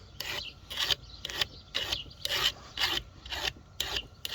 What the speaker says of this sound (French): vous l'affûtez jusqu'à temps que ça glisse